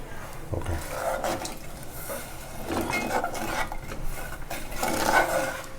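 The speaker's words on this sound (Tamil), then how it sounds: "இந்த கட்டிப்படாமல் அப்படியே கொஞ்சம் நல்லா கிண்டி விட்டுறணும்" A spoon stirs milk into besan flour in a pot while making sweet payasam, giving a steady close scraping and swishing with light clinks against the metal and no talk.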